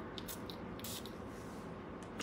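Louis Cardin perfume spritzes from a bottle in a few quick, faint hissing bursts, close but quiet over a steady background hum.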